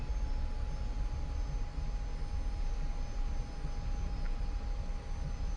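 A steady, faint jet engine whine with a broad rushing hiss as an F-86F Sabre taxis in a flight simulator, unchanging throughout with no voices.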